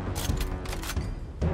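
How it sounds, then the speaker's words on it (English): A gun in Gears Tactics is reloaded with a quick run of mechanical clicks and clacks, close and fairly loud, over a low rumble. "One shot left. Need ammo. Reloading."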